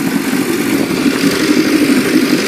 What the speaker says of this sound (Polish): i silniczek sobie pracuje. Do wypalenia zawartości gaźnika.